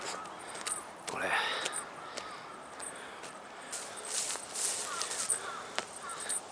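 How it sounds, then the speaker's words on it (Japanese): Crows cawing overhead in Tsurumi Ryokuchi, the Expo memorial park, with scattered repeated caws that sound fairly faint and distant over outdoor ambience and soft footsteps. "カラスがうるさいことね"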